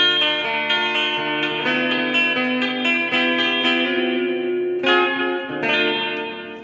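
Sustained electric guitar chords run through reverb and delay pedals on a budget pedalboard, with a thick, washy tone that rings continuously, loud and close, changing chord around the five-second mark, with no voices.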